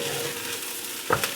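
Rice toasting in a hot pan for tomato olive rice, a soft continuous sizzle and frying hiss with a quick stirring scrape near the end, close and without voices.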